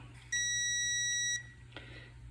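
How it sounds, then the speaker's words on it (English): A digital torque wrench gives one steady high-pitched electronic beep of about a second when it reaches its set torque during assembly of a Ford 428 FE engine. The beep is clear over quiet workshop background, followed by a faint clunk. "it's nice that it beeps when you reach torque"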